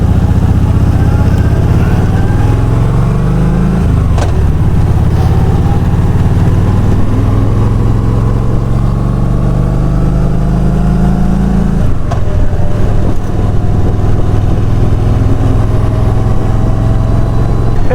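A 2017 Kawasaki Voyager 1700 engine runs at a steady, loud, close low rumble, with the pitch rising and dropping slightly twice as the throttle shifts.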